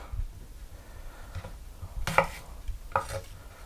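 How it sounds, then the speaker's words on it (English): A knife chops through bell pepper on a cutting board, a few separate crisp knocks spaced irregularly over a quiet background. "I'll just chop it at an angle, next one at another angle, another angle, another angle"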